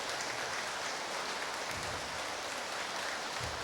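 Audience applause in a Buddhist temple hall as a monk enters for a dharma talk, a dense, steady patter of many hands clapping continuously throughout.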